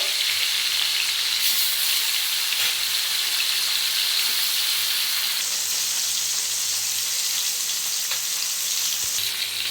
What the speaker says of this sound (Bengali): তেলটা গরম হয়ে গেছে। এবার দিয়ে দেব মাছগুলো। খুব হালকাভাবে ভেজে নেব।